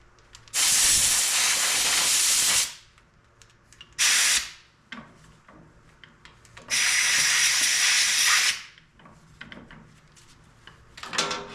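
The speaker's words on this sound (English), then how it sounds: "Sometimes the best way to free stuff is just to get it loose and blow the rust out before you dump a bunch of oil in there." Compressed air blasts rust out of the PTO clutch on an Oliver Super 88 tractor, coming as three loud, hissing bursts of roughly two seconds, half a second and two seconds, with quiet workshop gaps between them.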